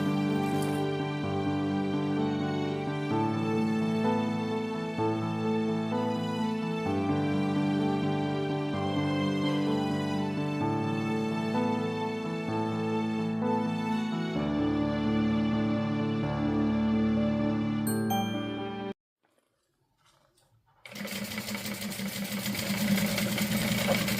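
A sewing machine stitching a quarter-inch seam runs in a loud, steady mechanical whir with a strong tonal hum, stops abruptly into a brief silence, then gives way to a rougher, noisier rustle.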